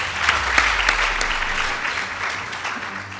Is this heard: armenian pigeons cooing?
no